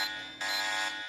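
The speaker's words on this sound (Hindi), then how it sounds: "ये प्रॉक्सिमिटी अलार्म है।" An electronic proximity alarm from an animated comic story sounds as a steady, bright buzzing tone that jumps louder partway through, heard alone for about a second.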